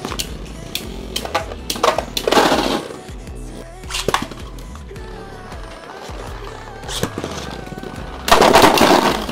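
3D printed Beyblades clash in sharp, loud cracks and rattles, with a final heavy burst at the end, mixed with scraping and a voice speaking at times.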